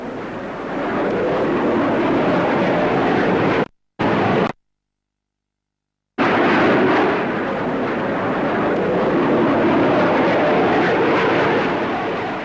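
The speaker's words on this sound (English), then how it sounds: "Finally, to round off this great show, the Hawker Hunter." A Hawker Hunter F4 jet fighter at an air show, a loud continuous roar of the jet passing close, broken by a sudden cut to silence before the roar resumes and holds steady.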